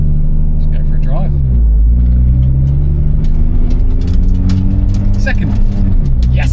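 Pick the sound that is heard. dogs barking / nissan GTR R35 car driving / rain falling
nissan GTR R35 car driving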